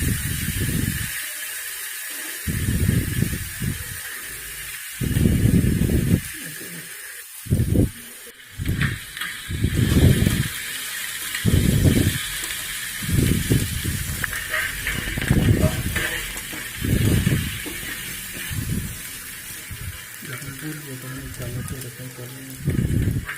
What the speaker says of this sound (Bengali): এবার আমার পেঁয়াজ বাটাগুলো, পেঁয়াজ রসুন আদা সব বাটাগুলো ভালো করে ভাজা হয়ে আসছে